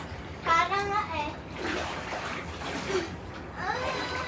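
Bath water washes and sloshes steadily in a tub while children talk and play close by, with occasional splashes under their voices.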